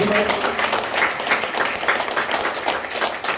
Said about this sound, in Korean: 그 말인 걸 믿는 사람 박수 한번 주세요